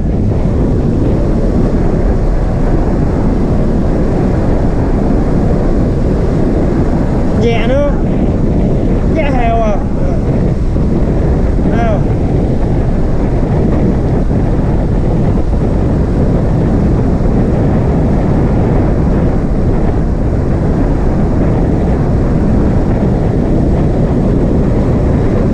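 Yamaha Exciter 135 motorcycle cruising steadily on a tour ride, with loud, continuous engine drone heavily mixed with wind rush over the microphone throughout, and a few brief higher-pitched whines rising in the middle.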